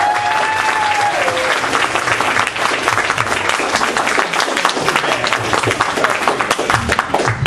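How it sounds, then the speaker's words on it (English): Loud, dense applause rings out from guests at a 2013 Libertarian holiday party and award ceremony in Montgomery County, Pennsylvania, steady throughout with a few voices and whoops woven in. "So, please give a big round of applause for N.A."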